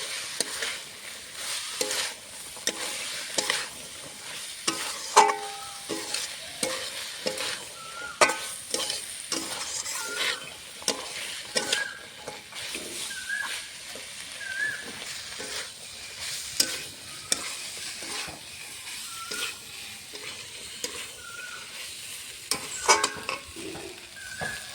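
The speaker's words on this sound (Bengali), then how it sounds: "এখন এর মধ্যে দিয়ে দেবো ভেজে রাখা আলু আর ছোলাটা একসঙ্গে দিয়ে দেবো। মশলার সঙ্গে এখন কষিয়ে নেবো কিছুক্ষণ।" Fried potatoes and chickpeas sautéed with spices in a pan, giving a continuous soft sizzle with repeated scraping stirs and occasional light clinks, moderately quiet and without talk.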